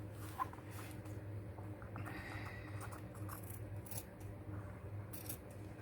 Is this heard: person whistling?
no